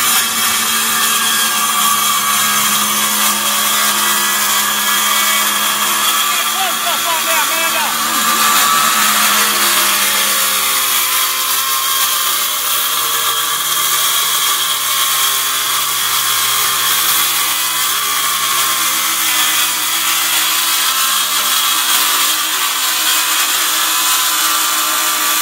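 A power saw cuts wood at a tiny homes event outdoors, a steady loud whine that lasts throughout, with people talking over it.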